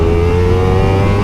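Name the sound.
motorcycle engine revving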